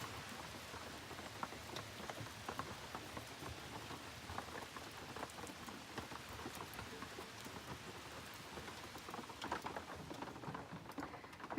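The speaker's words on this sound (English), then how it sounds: "And it's rainy." Early morning rain falls steadily outdoors on a fall day as a soft, continuous patter of drops, with a few louder splats, fairly faint and with no talk.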